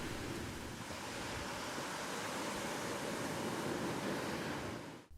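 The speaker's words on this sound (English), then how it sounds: "Listen to the waves." Ocean waves wash onto the shore near New Dungeness Lighthouse, a steady, broad roar of surf with wind mixed in, continuous and fairly close, fading out abruptly at the end.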